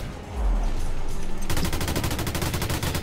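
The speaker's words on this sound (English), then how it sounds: "I'll just shoot them with a machine gun again" Automatic machine gun fire in the video game Project Nimbus, a rapid, steady stream of loud shots that starts after a short rumble and keeps hammering at an even rhythm through the rest of the moment.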